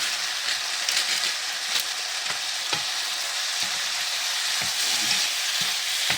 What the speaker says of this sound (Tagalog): So guys, i-add natin yung masarap rice dito.